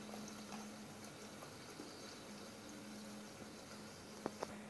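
Chinese crab apple jam comes to a boil in a pot, a faint, steady bubbling simmer with occasional soft pops and clicks, heard alone without talk.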